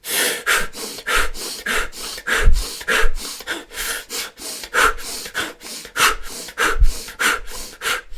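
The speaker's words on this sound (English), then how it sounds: "we're rapidly breathing in our nose, out our mouth, in our nose, out our mouth" A person demonstrates rapid breathing, sharply in through the nose and out through the mouth, in a quick steady rhythm of about a dozen close, loud breaths with no talking.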